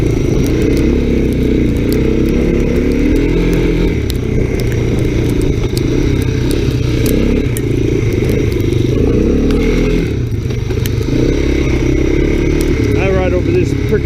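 An ATC three-wheeler engine rumbles steadily close by while riding through snow during a winter snowstorm, with scraping and clattering under the motor and a voice talking over it.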